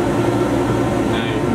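A workshop dust collector running steadily at close range, a loud constant broadband roar with a low hum, with no break across the clip.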